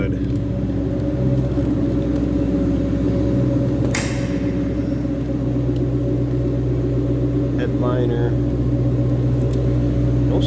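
2003 Ford Mustang Mach 1 coupe idling, a steady low rumble held close and continuous, with a brief sharp click partway through and faint chirps later on.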